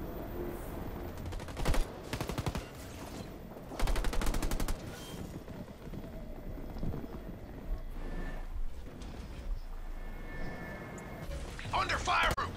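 Video game battle with ground troops attacking, carrying repeated bursts of gunfire and rattling volleys in clusters over about twelve seconds, with horse hooves and whinnies mixed in and voices talking throughout.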